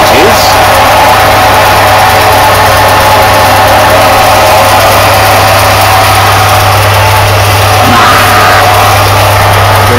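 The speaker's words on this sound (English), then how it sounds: "that is a 240 volt motor, and he's 990 watts, so it's just under a kilowatt" A 240 volt, 990 watt electric motor with a slow 900 RPM, set up as a homemade knife grinder, hums steadily at a constant pitch for the whole stretch, loud and unchanging, with a faint voice or two in the background.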